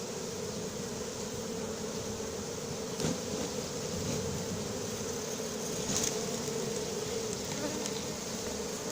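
A swarm of honeybees being gathered into a cardboard box during a swarm capture in Soignolles-en-Brie, their dense, steady buzzing filling the space continuously at close range with small flurries of louder activity, no speech.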